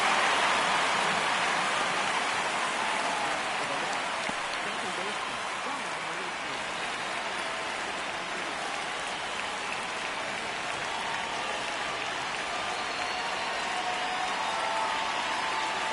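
A stadium crowd in the MLB The Show 26 baseball video game rumbles and swells in a steady roar, heard at a distance throughout with no clear talk over it.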